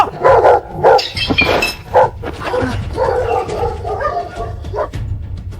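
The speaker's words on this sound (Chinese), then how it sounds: "七哥，狗咬我了！" Dogs bark loudly and repeatedly in close, aggressive bursts while attacking intruders, with yips and whimpering mixed into the frantic, overlapping barking.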